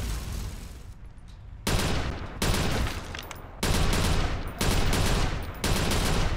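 Loud, close automatic gunfire from Watch Dogs comes in a series of long, dense bursts, each lasting about a second, with short gaps between them.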